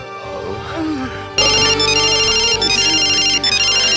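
A mobile phone ringtone suddenly bursts in loud and close after a quieter stretch, then plays on as a bright, repeating melodic ring to the end.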